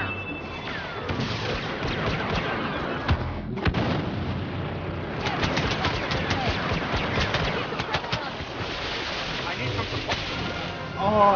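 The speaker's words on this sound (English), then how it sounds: "Blaster fire kinda hurts, huh?" Star Wars Battlefront blaster fire from a Heroes versus Villains multiplayer match, loud and nearly nonstop with rapid bursts and heavy explosive impacts, and voices talking over the battle.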